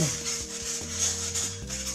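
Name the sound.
smoothing a drilled piece by rubbing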